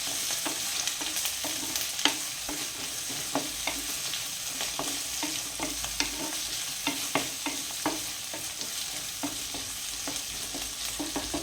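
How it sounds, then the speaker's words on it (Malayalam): Chopped tomato being stirred into mutton gravy in a pan, a low steady sizzle punctuated by frequent spoon clinks and scrapes throughout, close and without talk. "നമുക്കിതൊന്ന് മിക്സാക്കി കൊടുക്കാം."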